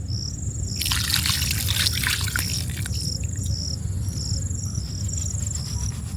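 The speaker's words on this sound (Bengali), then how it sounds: "দিয়ে দেব পরিমাণ মতো জল।" Water poured into a cooking pot in an outdoor village kitchen, a bright splashing trickle lasting a couple of seconds, with steady crickets and birds chirping around it.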